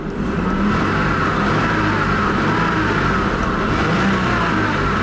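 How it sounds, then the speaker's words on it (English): A 1994 Acura Legend's older C-Series V6 engine idles steadily close by, a loud, continuous low rumble with no pauses or noticeable revving. "The Engine still sounds good. This is Acura's C-Series motor, the older V6."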